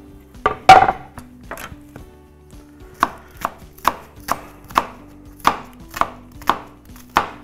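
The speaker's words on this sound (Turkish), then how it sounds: "Böyle minik minik doğrarsanız daha iyi olacak." A knife chops onions finely on a cutting board for an eggplant dish, a sparse first few cuts followed by a steady run of crisp, close, evenly spaced chops with no talking.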